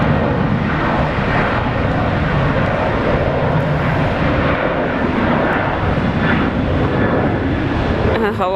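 A Virgin Australia airliner departing Brisbane Airport, a loud, sustained jet engine roar with a steady broadband rumble holding throughout.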